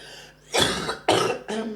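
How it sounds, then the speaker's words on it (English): Three harsh coughs in quick succession, close and fairly loud, with brief pauses between them and no talking. "I'm coughing a bit"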